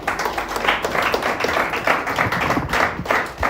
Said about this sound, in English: Can we just clap for him once again?